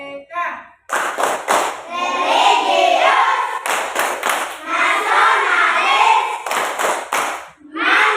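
Elementary schoolchildren in a classroom perform a rhythmic clapping chant, sharp unison claps in patterned bursts alternating with loud, lively group chanting, repeated in three cycles.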